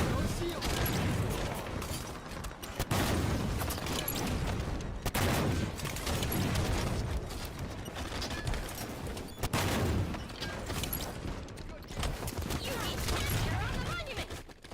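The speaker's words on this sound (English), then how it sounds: "a rocket launcher that fires 3 rockets at the same time" Rapid bursts of rocket-launcher fire from the AD Victoriam in the Halo 5 video game, dense blasts and explosions repeating in waves, loud and close, over a continuous busy game soundscape.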